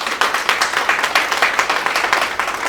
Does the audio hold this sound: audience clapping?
yes